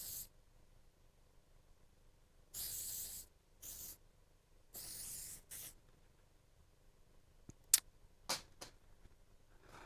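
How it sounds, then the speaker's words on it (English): Joico Flip Turn hairspray, a 10-plus hold spray, hisses out in two longer bursts and a few shorter puffs during a home haircut, close and fairly loud, with brief clicks of the can near the end. "What hairspray are you using?"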